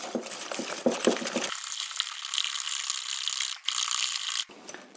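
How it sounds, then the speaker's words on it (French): Three eggs with sugar whisked vigorously in a bowl for an orange cake batter, a steady fast scraping and rattling of the whisk against the bowl, close and continuous for several seconds. "Là, on va fouetter assez vivement."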